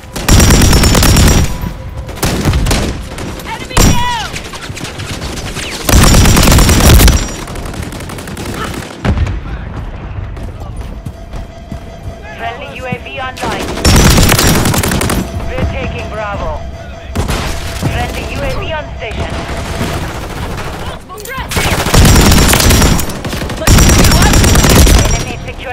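Bursts of rapid automatic gunfire and sharp shots from the Modern Warfare 3 video game, with loud clusters separated by quieter stretches of distant battle noise and occasional in-game voice callouts.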